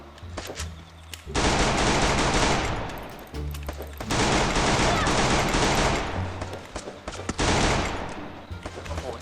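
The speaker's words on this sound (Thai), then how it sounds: "มีเสียงปืนเกิดขึ้นแล้วนะครับ" Three long bursts of rapid automatic gunfire in the video game Free Fire, loud and close, separated by brief quieter gaps with a few lighter shots.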